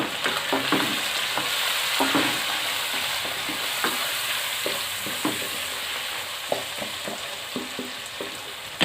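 Tomatoes and spices sizzle in oil for a restaurant-style beef keema pulao, a bright continuous hiss broken by repeated scraping stirs of a spoon against the pot, close and without talk.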